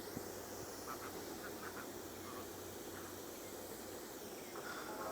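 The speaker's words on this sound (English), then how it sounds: "Eight ducks, man." Several hungry farm ducks quack in short faint bursts outdoors while being fed, their calls scattered and thin over a steady wash of background noise.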